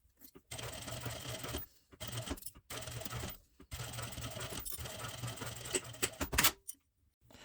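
Sewing machine stitching the seam of a child's chef hat, fast steady mechanical whirring in several bursts separated by short pauses, close and clear with no talking.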